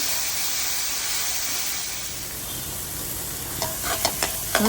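Onions sizzling steadily in a frying pan as they are stirred with salt, a constant hiss with a few sharp spoon clicks and scrapes near the end.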